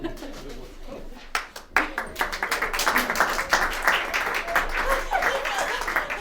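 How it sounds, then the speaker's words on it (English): Applause from an audience at the Kentucky Party's first convention, a crowd clapping steadily and building after a brief pause, with scattered voices mixed in. "Everybody claps."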